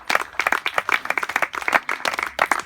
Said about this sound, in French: Vous pouvez applaudir le nouvel éco-acteur, donc Jean-Marie Espuche, guide naturaliste